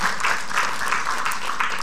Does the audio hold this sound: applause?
yes